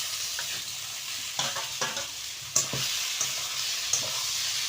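Fried pointed gourd and potato pieces stirred into spices with turmeric and salt in a hot pan: steady sizzling under repeated spatula scrapes and knocks, close by, with no talking.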